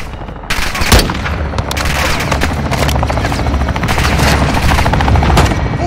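In the Modern Warfare II campaign, a helicopter gives air support and fires on a building. A loud burst opens the run, then sustained rapid machine-gun fire continues over the rotor drone, close and intense throughout.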